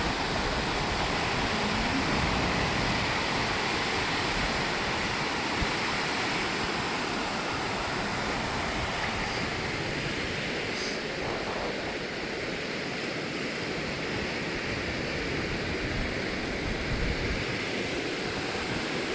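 A waterfall in Thailand roars at midday in a steady, dense rush of falling water, continuous and broad, with no voices over it.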